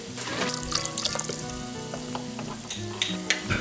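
Ground beef sizzles steadily in a pan for a slow cooker chili, a close, continuous crackling fry with occasional stirring and music playing underneath.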